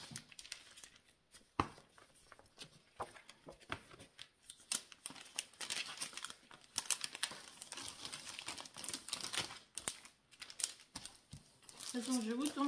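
Sheets of paper are gathered up and put away indoors, giving a run of close, uneven rustles, crinkles and sharp handling clicks that come and go in scattered bursts.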